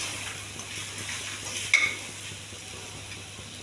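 Brown rice mango rice being stirred in a pan over a low flame: a steady soft scraping hiss throughout, with one brief louder scrape of the spoon near the middle.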